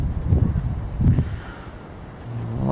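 Cold westerly wind gusting over an open riverbank on the Western Dvina, buffeting the microphone with low rumbling bursts that rise and fall, then settle into a steadier rush.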